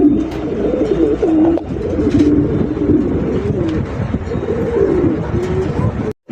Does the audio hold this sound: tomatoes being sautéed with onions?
no